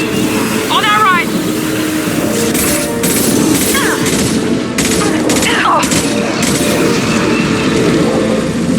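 Gunfire in Mass Effect 2 Legendary Edition, loud repeated shots and booms layered over constant game noise and music, with a voice calling out during the firefight.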